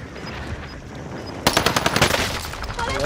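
Rapid automatic gunfire from a video game, a quick string of loud close shots that breaks out midway through the clip and keeps rattling over quieter game ambience.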